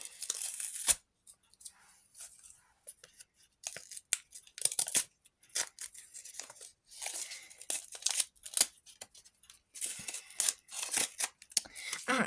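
Paper surprise packets being torn open, with repeated crisp ripping and crinkling bursts separated by short quiet gaps, close and fairly loud.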